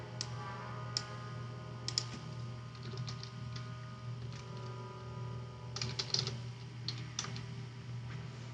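Faint, sparse keyboard taps and clicks scattered over a steady low hum, typing into a web search at a slow irregular pace, with no speech.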